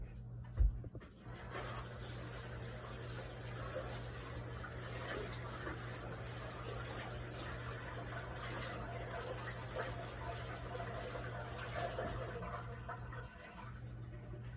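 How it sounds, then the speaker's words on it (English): Tap water runs steadily into a sink as hands are washed, a continuous close rushing stream over a low hum, with the water shutting off near the end. "let me wash my hands real quick"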